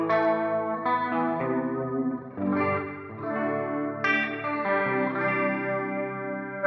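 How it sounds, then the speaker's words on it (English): Clean electric guitar through a Line 6 Metallurgy amp plugin, playing sustained chords and single notes, shimmering with a wide, wavering built-in chorus effect and a touch of spring reverb, played alone. "built-in chorus effect there as well, which isn't too bad"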